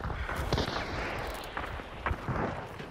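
Muffled video game gunfire pops in scattered bursts over a dense, noisy battle backdrop, with a few sharper shots standing out amid the rumble.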